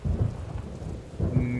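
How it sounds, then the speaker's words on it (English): Thunderstorm sound effect in a tabletop role-playing game scene, with lightning striking fairly close on a mountain peak: low rolling thunder rumbles over steady rain, swelling twice in heavy bursts, with no speech. "The lightning storm is actually starting to hit fairly close around you"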